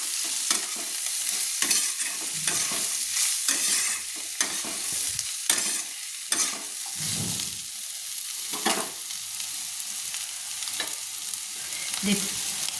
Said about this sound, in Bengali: ভালো করে নেড়ে নিলাম হলুদটা দিয়ে